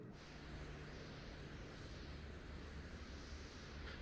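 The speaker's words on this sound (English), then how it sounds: "let's go ahead and power on the left engine, pump, ignition," Left engine of an F-22 Raptor starting up in the DCS World flight simulator, a steady loud turbine roar with a high whine held evenly throughout, no voices.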